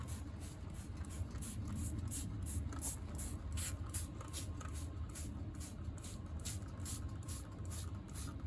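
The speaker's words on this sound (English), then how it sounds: "I'm gonna give it a good spray and let it sit for a little bit." A spray bottle of Super Clean degreaser hisses in a quick series of repeated bursts, fairly rhythmic, over a low background rumble, sprayed onto a VW Beetle Type 1 engine pan.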